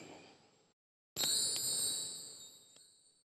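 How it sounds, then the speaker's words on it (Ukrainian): A small stemmed bell rings in a sound healing session, struck after a faint earlier tone, giving a clear bright ding with a few soft re-strikes as the high shimmering tone slowly decays. "І це такий чудовий дзвоник."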